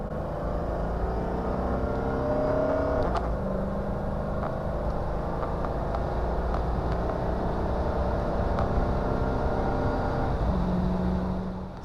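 A car pulls hard from a standstill toward 60 mph, its engine droning steadily and loudly from inside the cabin, with rising tonal whine lines and a brief gear-change break partway through.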